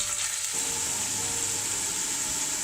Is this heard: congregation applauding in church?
no